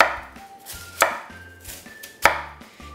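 A knife slices slowly and carefully through an onion on a cutting board, with two crisp, loud cuts and several softer strokes at an uneven, deliberate pace, close up and without speech.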